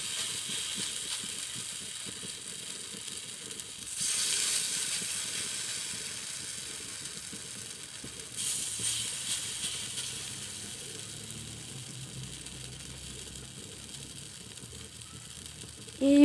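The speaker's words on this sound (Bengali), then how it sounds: "আর এখন বড়াটা ভেজে নিব।" Bora fritters sizzle in hot oil for an iftar meal, a steady low crackling hiss that swells louder in two bursts, with faint kitchen noise beneath.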